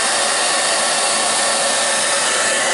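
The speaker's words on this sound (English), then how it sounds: "So I've got a little hair dryer. I'm going to hit that for a few minutes." A small hair dryer blows steadily on an iced-up ice maker coil, a loud, even, continuous hiss close to the microphone with no pauses.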